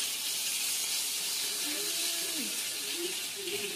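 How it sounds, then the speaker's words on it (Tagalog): Chicken fries in a pan in a condo kitchen, giving a steady bright sizzle and hiss close by, while a faint voice talks and hums briefly underneath. "Tapos ngayon nagpiprito ko ng manok."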